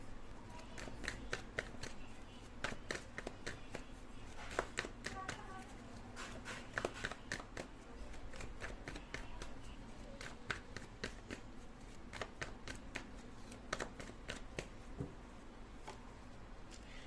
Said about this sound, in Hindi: जब तक मैं कार्ड निकालती हूँ आप प्रे कर सकते हैं गॉड से